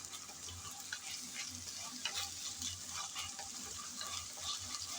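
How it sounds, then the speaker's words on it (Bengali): Ginger-garlic paste sizzling in a pan while being stirred, a steady frying hiss with soft scraping from the stirring, continuous and close throughout with no talk. "নেড়ে চেড়ে হালকা করে ভেজে নিচ্ছি, যাতে আদা রসুনের কাঁচা গন্ধটা চলে যায়।"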